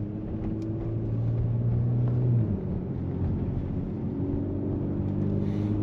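A Kia Stinger GT engine hums with a low, steady rumble nearby, holding a deep drone with a slight rise in pitch midway before settling back to an even idle.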